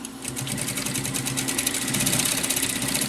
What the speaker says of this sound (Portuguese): Vou dobrar e passar uma costura aqui, ainda com o ponto bem largo